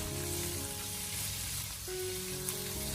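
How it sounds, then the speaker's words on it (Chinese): Sliced pork stir-frying over low heat in a wok with ginger and garlic for a carrot and pork dish, a steady close hiss of frying with a faint tonal hum and a single light clack. "再将切好的猪肉放进来，然后再继续的小火慢慢的翻炒一下"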